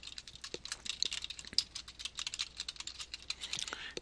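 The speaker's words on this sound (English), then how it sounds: "Otherwise, you can type in your email address" Quick, irregular clicking of keys on a computer keyboard as an email address is typed, close and quiet, with no talking.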